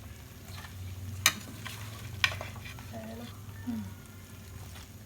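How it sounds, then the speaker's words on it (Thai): Chinese kale goes into a pot of boiling water for Vietnamese-style rolled noodle soup, with steady close bubbling, a couple of sharp splashes and clinks as the greens drop in, and a brief voice in the background. "พอน้ำเดือดแล้วผมก็จะเริ่มใส่คะน้าลงไปนะคะ"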